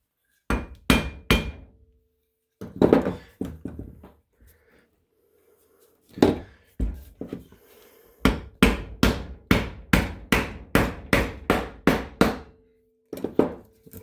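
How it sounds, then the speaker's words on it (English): Repeated hammer blows on the metal laminations of a control power transformer, arriving in close, loud bursts of sharp impacts with short pauses between groups. "May have to get a hammer."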